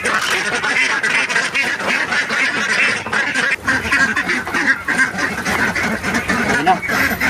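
A flock of domestic ducks quacks loudly and continuously at close range on a rural farm, dense overlapping calls with a voice speaking among them.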